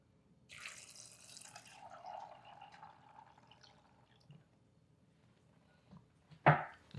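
Tap water pours into a pot in a kitchen while preparing dough for Chinese sesame balls, a soft hissing stream for several seconds, followed by a faint pause and a sharp clunk near the end.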